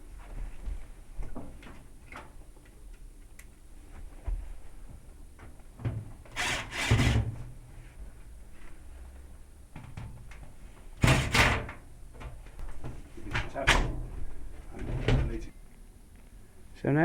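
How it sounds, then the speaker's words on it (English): Top lid of a Zanussi Timeline washing machine being unscrewed at the back and lifted off, giving several sharp wooden-sounding knocks and scrapes close by, with quiet rustling between them. "we're going to start by taking the top off, which is held on at the back here by 2 screws"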